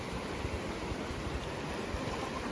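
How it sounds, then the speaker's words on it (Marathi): Flowing water stream in a Ratnagiri village, a steady, close, full rushing wash with no pauses and no voices. "फ्लो आहे, पाण्याचा फ्लो तर आहे."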